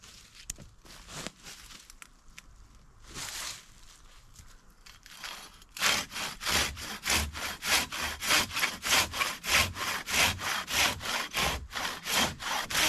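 A handsaw cuts V-notches into a log for a log cabin: a few scattered scrapes at first, then a fast, loud, regular back-and-forth sawing rhythm close by.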